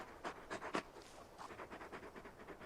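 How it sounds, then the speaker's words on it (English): Rhythmic dog panting from the large wolf-like hound in the Final Fantasy XVI video game, quick breathy pulses close by and fairly soft. "You're just a big puppy, aren't you?"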